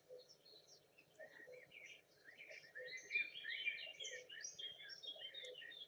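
Several small birds sing and chirp in a steady outdoor chorus, bright twittering calls overlapping and growing fuller partway through, with no talking.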